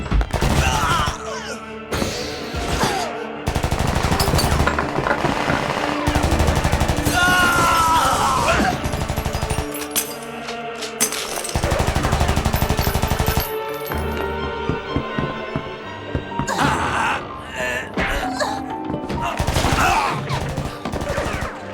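Anime action scene with sustained bursts of automatic gunfire, loud dense rattling volleys interrupted by short pauses and impacts, with shouts mixed in.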